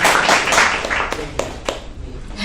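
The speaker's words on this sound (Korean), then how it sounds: "정말 참 수고하는 우리 가수한테 여러분들 함께 박수 한번" Audience applause for a singer at a poetry event in a cafe, a crowd clapping loudly at first then thinning to a few separate claps as the burst fades out.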